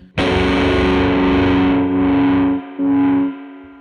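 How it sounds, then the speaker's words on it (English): Sustained distorted electric guitar chord through a Dreadbox Treminator tremolo pedal, volume swelling and dipping in a few broad pulses, loud and close. "if I turn it over counterclockwise, I can fade into a tremolo sound"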